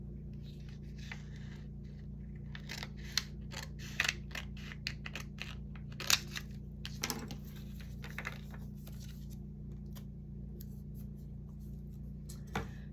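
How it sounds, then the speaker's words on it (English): Scissors cut a piece of acetate sheet at close range in a paper-craft setting, giving a string of quick crisp snips and rustles over a steady low hum, with no voices. "Let me get my acetate here and cut another piece to cover my window."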